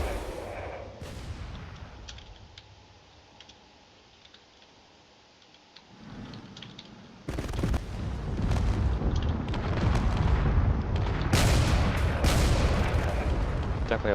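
Long-range cannon fire in the Drone Wars space battle game, a quiet stretch of faint ticking that breaks into a loud, dense barrage of booming shots and blasts rolling on continuously.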